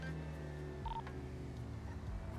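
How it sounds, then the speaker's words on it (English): Short electronic cell-phone-like beep tone in the GTA RP video game, a single brief mid-pitched chirp heard faintly against a low hum of game ambience with no talk. "Like a cell phone sound."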